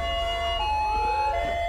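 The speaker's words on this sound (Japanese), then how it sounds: "救急車が到着です" An ambulance siren wails as the vehicle arrives in the video game GTA5, loud and close with steady tonal sweeps over a low engine rumble and no talk.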